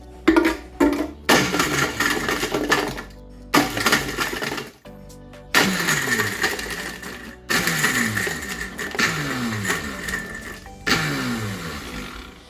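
A heavy-duty ice-crushing blender, the Astron Ice Power, grinds ice cubes in loud repeated bursts, with rattling, clattering chunks and the motor revving and pausing between pulses.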